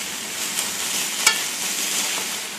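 Fresh spinach sizzles and wilts in a hot pan, a steady soft frying hiss with one brief utensil scrape partway through, close and unaccompanied by voices.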